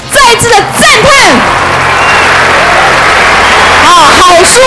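An audience applauds in a hall, a sustained wash of clapping framed by loud, excited speaking and cheering voices at the start and end.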